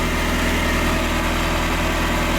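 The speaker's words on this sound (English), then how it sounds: "remember the engine's just idling" 1985 Ferrari Mondial QV engine idling during water pump work, a steady low rumble with an even rhythmic pulse, loud and close, continuous with no talk.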